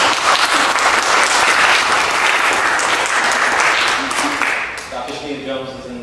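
An audience applauds steadily and loudly at a faculty showcase, sustained clapping that tapers slightly near the end.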